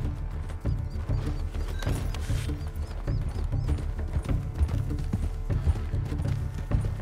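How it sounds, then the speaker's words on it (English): A horse gallops in Red Dead Redemption 2, its hooves pounding in a fast, close, steady rhythm over game music and background rumble. "Oh, he on a horse."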